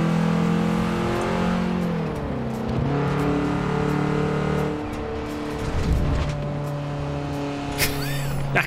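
A damaged Volkswagen Golf MK2 GTI is driven in Forza Horizon 4, its engine revving loudly and shifting pitch through gear changes, with a brief thump and rattle partway through.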